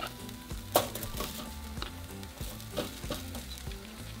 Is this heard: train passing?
no